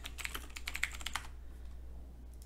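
Quick bursts of typing on a computer keyboard while searching, a short cluster of close clicky keystrokes in the first second, then fading to faint room hiss.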